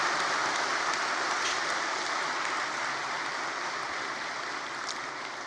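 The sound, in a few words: audience applauding the Prime Minister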